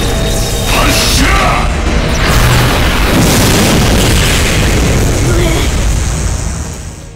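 A massive moonlight cannon blast from the video game Fate/Grand Order, a loud booming explosion with a sustained roaring rumble that fades at the end, with no talking over it.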